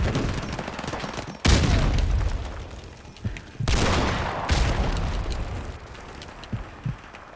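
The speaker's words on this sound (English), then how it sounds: "Throwing nades at me like crazy." Grenades exploding amid gunfire in a shooter video game, with several sharp, loud blasts, smaller bursts scattered between them, and a dense rumbling background throughout.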